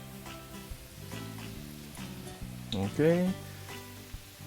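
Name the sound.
red onion frying in a wok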